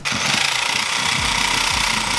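A Sawzall reciprocating saw cuts out suspension bushings on a Lexus IS300, a loud, close, steady buzzing rattle with a fast pulsing chatter that runs without a break.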